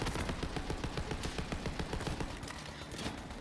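Rapid bursts of automated turret gunfire in the video game Borderlands 3, a steady crackling stream of shots with a dense, busy game mix underneath and no talk.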